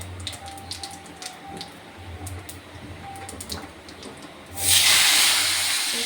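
Tomato drops into hot oil already holding cumin seeds, setting off a sudden loud, close sizzling hiss that holds steady after a stretch of quieter pan crackles and small taps.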